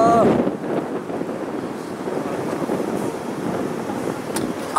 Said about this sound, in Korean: 아 바람 엄청 불어